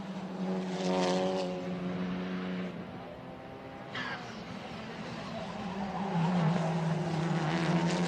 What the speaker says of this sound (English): Here come all the cars in the last turn of the Curva da Vittoria